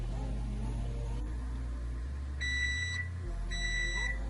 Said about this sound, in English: our muffins are done by the timer